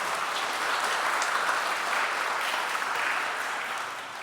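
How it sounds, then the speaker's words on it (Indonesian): A congregation at a university faculty Mass applauds the choir, dense continuous clapping from a crowd that holds steady for several seconds, then eases slightly toward the end. "kita beri tepuk tangan untuk ke kelompok KOR"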